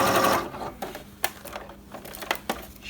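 A Bernette b37 domestic sewing machine stitching at reduced speed, with a brief whirring run followed by a few scattered needle clicks and light mechanical taps, close and fairly quiet with no speech.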